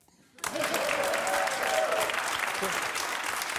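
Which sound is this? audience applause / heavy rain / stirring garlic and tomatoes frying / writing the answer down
audience applause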